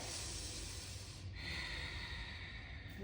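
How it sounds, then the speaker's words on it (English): A deep, slow breath during a beginner's pregnancy yoga session: a long, airy inhale turns into a softer exhale, close and alone, with no talking. "Big inhales and exhales here."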